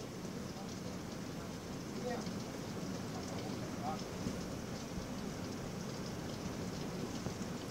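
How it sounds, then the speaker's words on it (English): Steady rain pours down during a tornado storm at a house, a dense continuous hiss with low rumbling underneath, with voices faintly audible beneath it. "There's rain in the house."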